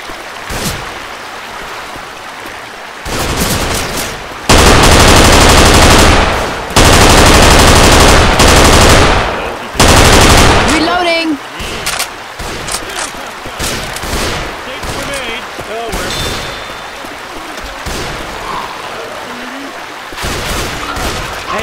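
Rifle fire in the video game Left 4 Dead 2 on the Cold Stream map: long, loud sustained bursts of automatic shooting roar up close, then break into scattered individual shots with voices talking between them.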